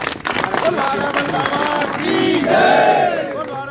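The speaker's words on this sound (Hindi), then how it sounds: "इसके लिए एक बार जोरदार तालियां सभी को" Crowd cheering and clapping for a police team in Khatima, Uttarakhand, with loud shouts and rising whoops over a mass of applause and voices.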